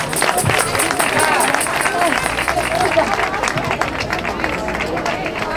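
A crowd at a charity race for Cáritas claps for a women's category winner. Loud, dense clapping mixes with crowd babble and voices throughout.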